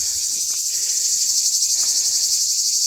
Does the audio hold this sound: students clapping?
no